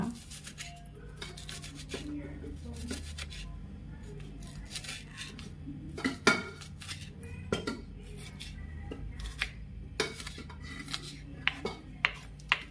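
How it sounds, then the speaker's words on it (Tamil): Knife chopping onions finely on a board for a wheat dosa batter, a series of sharp taps and clicks, sparse at first then quickening near the end, close by over low kitchen hum. "நல்லா ஃபைனாக குட்டி குட்டியாக சாப் பண்ணிக்கோங்க"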